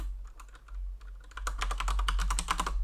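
Typing on a computer keyboard while entering Linux terminal commands, with sparse keystrokes at first and then a quick, close burst of clicks.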